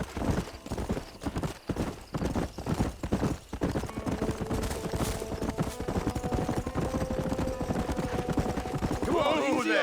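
In Red Dead Redemption, a horse gallops in rapid rhythmic hoofbeats, loud and close, settling into a steady run with occasional snorts and light game sounds.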